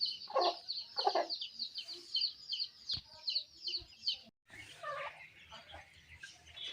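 Aseel roosters clucking and calling close by in a pen, a run of busy, scratchy clucks and short cries with brief pauses and faint background noise.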